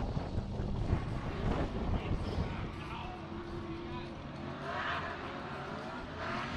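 Formula Drift Pro 2 cars running on the track at Texas Motor Speedway in Fort Worth, Texas, a distant engine drone and tire noise mixed with wind buffeting on the microphone, moderately loud throughout.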